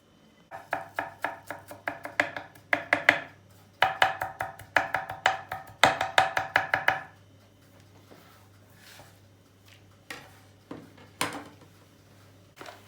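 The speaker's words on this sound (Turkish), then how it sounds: "Şimdi sıra geldi maydanozla karışık dereotunu doğramaya" Steady knife chopping of parsley and dill on a board, quick rhythmic taps in bursts, then sparser scattered chops toward the end, close and clear.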